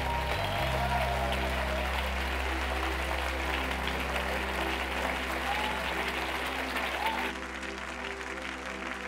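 An audience at a church leadership conference applauding, dense sustained clapping and crowd noise that thins slightly toward the end.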